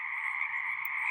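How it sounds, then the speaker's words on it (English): Frogs croaking around a home, a dense steady chorus of high trilling calls blending into one continuous near and loud drone. "to the frogs which surround my home"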